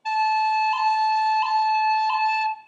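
Bagpipe chanter playing a couple of quick pips, sharp grace-note breaks cutting three times into a steady, bright, reedy sustained tone, close and loud, with no voices.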